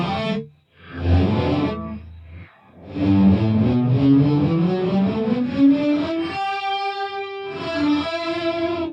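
An electric guitar runs through a reverb pedal set to a low decay, giving loud, sustained notes and chords that slide and ring with short tails, with no talking.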